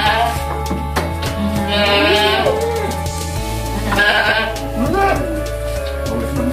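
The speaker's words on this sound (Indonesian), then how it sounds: "Kita berada di kandang kambing Pak Juwito saat ini, teman-teman." Senduro goats bleating in a goat pen, several loud, wavering calls close by that come one after another, with a steady low hum underneath.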